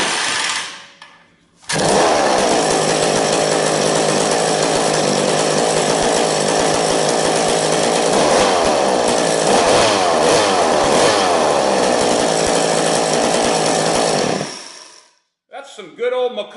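A rebuilt McCulloch Super Pro 81 chainsaw fires up after a short pause and runs loud and close with a raspy, buzzing two-stroke drone, its pitch wavering slightly, before cutting off abruptly near the end.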